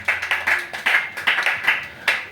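A church congregation claps together in quick, uneven bursts, about a dozen sharp rounds of hand claps close by with no talk over them.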